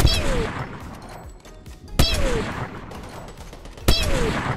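Gunfire from a battle royale video game: three sharp, loud shots spaced about two seconds apart, each with a ringing tail, over a dense background of game ambience.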